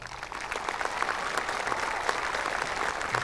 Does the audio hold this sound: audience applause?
yes